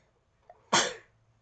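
One sudden, close sneeze erupts after a small catch of breath, loud and abrupt, then fades quickly into quiet.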